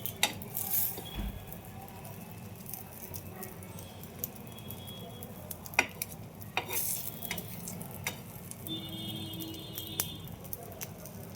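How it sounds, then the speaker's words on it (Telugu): Omelette with onions frying quietly on low heat in a pan, soft steady sizzle with occasional clinks and scrapes of a spatula, faint and close, with a brief voice at moments. "ఆమ్లెట్ ఇలా తిప్పేసుకొని సిమ్లో కాసేపు వేయించుకుందాం"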